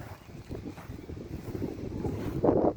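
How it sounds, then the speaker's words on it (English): Strong gusty wind outdoors beside a pond, buffeting the microphone in rough, uneven bursts that swell louder toward the end. "But it's very windy today."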